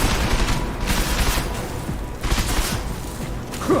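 Sustained gunfire fills a firefight in the video game Deus Ex: Mankind Divided, a loud, dense barrage of overlapping shots with rolling swells and no clear pauses.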